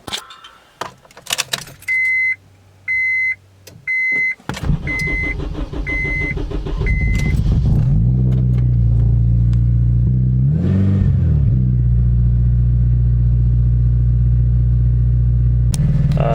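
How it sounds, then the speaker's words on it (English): A modified car's engine is started after a few electronic beeps and a jingle of keys, catching with a burst, revving briefly, then settling into a loud, steady rumbling idle. "So I'm gonna start the car and try to fix those."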